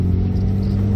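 A 1969 classic car with a 1.3 litre, 61 horsepower four-cylinder engine accelerating, giving a steady loud low rumble and droning hum from inside the cabin.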